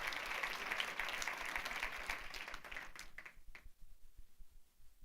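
A church congregation bursts into strong applause that thins into scattered claps and fades within a few seconds, heard at a moderate distance.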